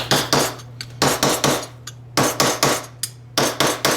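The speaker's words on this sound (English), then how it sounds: "When you hammer metal" Repeated sharp metallic hammer blows ring out close up as copper is shaped into a dome for jewelry, in quick bursts of two or three strikes, separated by short pauses, over a low hum.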